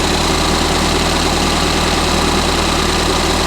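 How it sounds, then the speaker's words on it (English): A Ford Fiesta ST180 engine idles steadily after a vacuum line repair, giving a loud, close, even hum with a fine regular pulse and no stumbles or other sounds. "It's not got an erratic idle anymore."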